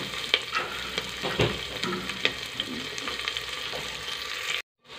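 Chopped onions frying in oil with cumin, green chilies and garlic for a whole moong dal dish, a steady close sizzle with scraping stirs and a few clicks, cutting off abruptly near the end.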